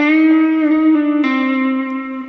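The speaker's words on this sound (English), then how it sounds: "as you release the bend, you're sliding up in pitch" A single sustained guitar note bends and then slides up in pitch, the note ringing smoothly and clearly on its own.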